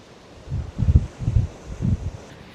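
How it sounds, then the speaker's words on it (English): Strong storm gusts buffet the microphone in heavy low rumbles, roughly four bursts in a row, with a faint rustle behind them, at Springbrook National Park or Burleigh Heads. "Just very, very windy as the storm just passes by there."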